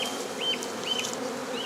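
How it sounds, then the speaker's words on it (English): Italian honeybees swarm and buzz around an opened hive on a Victorian-style farm, a steady close drone with a few higher whining passes as single bees fly near. "They're an Italian type of bee."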